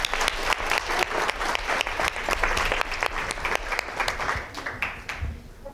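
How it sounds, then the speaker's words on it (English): A conference audience applauds a panel member at a business masterclass, dense clapping from many hands that holds loud and steady before thinning and fading near the end. "So another round of applause."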